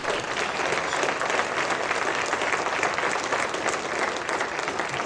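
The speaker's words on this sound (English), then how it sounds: "let's first give Paul another round of applause" A large audience breaks into sustained, dense applause for a speaker sharing his motorcycle rally story, a continuous wash of many hands clapping at full volume throughout.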